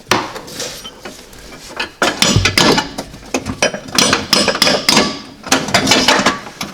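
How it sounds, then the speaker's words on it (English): Repeated sharp metallic taps and knocks from the back end of a metal drift on a 1971 Dodge Challenger's 318 engine, irregular and close, ringing briefly like metal striking metal. "The drift will just tap it with the back end of the drift."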